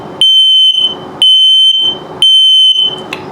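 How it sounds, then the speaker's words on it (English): A 2023 Sunset Trail 331BH RV's combined LP and carbon monoxide detector sounds its low battery alarm, three loud, evenly spaced piercing beeps, each about half a second long, with hollow pauses between them. "Low battery alarm."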